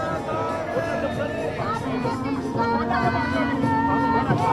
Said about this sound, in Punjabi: ਸੰਤਾਂ ਦੇ ਵੱਲੋਂ ਜੈਕਾਰੇ ਬੋਲੇ ਸੋਹਣੇ ਹਾਲ ਦੇ ਜੈਕਾਰੇ ਉਹ ਜਿਹੜੇ ਲਗਾਏ ਜਾ ਰਹੇ ਆ